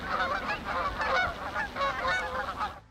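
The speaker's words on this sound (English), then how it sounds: "Geese are large water birds that are known for their long necks and distinct honking sounds." Geese honking at a pond, a flock calling in repeated loud, nasal honks that overlap one another throughout, close by and steady.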